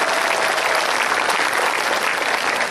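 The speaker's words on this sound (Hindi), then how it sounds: "मेरी आपसे गुजारिश है कि जोरदार ताली बजाकर इन शोरों का स्वागत करें। सब लोग ताली बजाएं।" Steady, dense applause from a large audience welcoming poets at an Urdu mushaira in Delhi, loud and continuous throughout with no voices over it.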